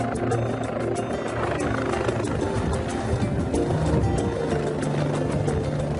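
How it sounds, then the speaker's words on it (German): Rescue helicopter Pelikan 1 thunders steadily near a football pitch, a loud continuous rotor roar and engine whine that holds without pause. "Schon kurze Zeit später ist der Hubschrauber wieder auf dem Fußballplatz."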